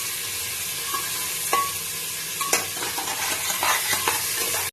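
Mutton for pulao fries in a pan over lowered flame, a steady close sizzle with intermittent scrapes and clinks of stirring throughout.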